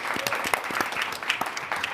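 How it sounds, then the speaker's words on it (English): A room of people applauding a guest at a conversation event, dense clapping with a few sharper individual claps standing out, continuous for the whole stretch. "want to please give a round of applause for Walt for being here"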